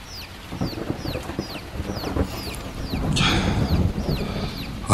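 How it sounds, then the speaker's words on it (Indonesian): Baby chicks peeping at midnight, repeated thin high chirps in a steady series over a low background rumble, with a louder rustling burst partway through. "aku mendengar suara ada anak ayam."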